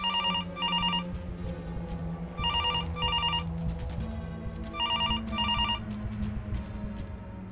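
An old-style telephone bell rings in repeated double bursts separated by short pauses, loud and close, over a steady background hum in a household scene from a Marathi TV serial.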